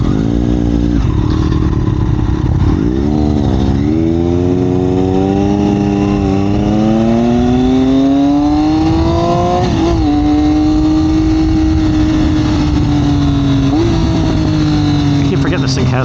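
A 2021 Triumph Daytona 765 Moto2 engine accelerating hard through rising revs with quick gear changes, each climb dropping and rising again, loud and close under rider wind noise.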